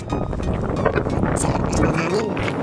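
Strong wind driving snow across a road during a winter snowstorm in Manitoba, Canada, a constant loud roar with buffeting on the microphone, while someone talks over it throughout.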